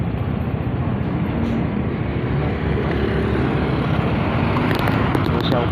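Steady, loud roar of a motorcycle riding at night on the road to Ortigas, engine drone blended with rushing wind noise on the microphone, continuous and close with no break.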